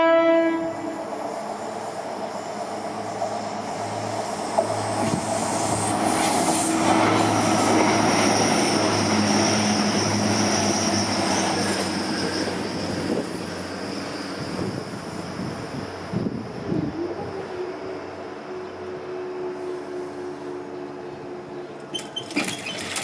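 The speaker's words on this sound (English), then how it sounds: "That was Grand Central service to somewhere" A Grand Central passenger train rumbles past Moat Hills level crossing, loud and close for most of the stretch, with a horn-like tone and steady wheel noise before the sound fades away near the end.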